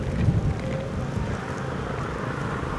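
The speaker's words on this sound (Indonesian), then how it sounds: "di 45 meter nih anginnya gede banget" Strong gusts buffet the microphone of a DJI Avata drone flying at about 45 meters near a hilltop. The roar is a steady, dense rumble throughout, with no pauses.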